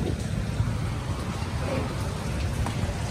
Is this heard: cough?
no